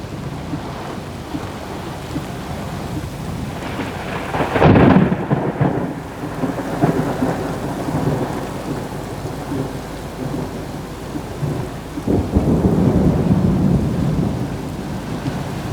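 Supercell thunderstorm at Underwood, Queensland, with a loud nearby thunder crack followed by rumbling, then another rumble later, all over steady heavy rain.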